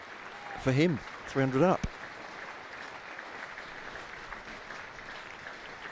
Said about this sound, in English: You can hear the applause in the background.